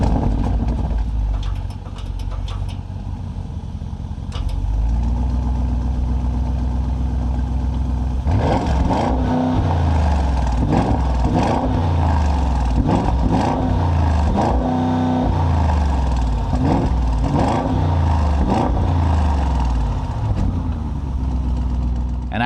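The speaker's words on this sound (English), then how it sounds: "this V8 still sounds magnificent. So let's go ahead and fire it up." A 2025 Audi SQ7 bi-turbo V8 starts up and settles into a deep idle, then is revved repeatedly in a series of rising and falling blips, loud and close, with a person speaking over parts of it.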